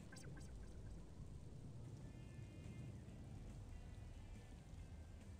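Steady rain falls in the PS2 game Jimmy Neutron: Attack of the Twonkies, a soft continuous hiss of drops and patter, very quiet throughout with faint tonal blips overhead.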